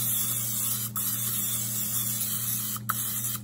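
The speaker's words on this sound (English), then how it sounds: "Little olive oil spray." A steady hiss of an olive oil aerosol cooking spray into a skillet, continuous over a low electrical hum, with a couple of brief soft clicks.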